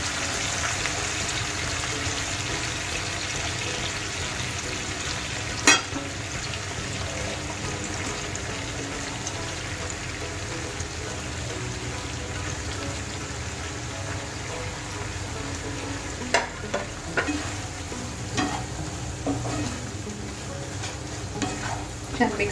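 Chicken fries in a pan with a steady, broad sizzle while being stirred, occasional sharp scrape and clatter of the spoon against the pan standing out near the end, close and continuous.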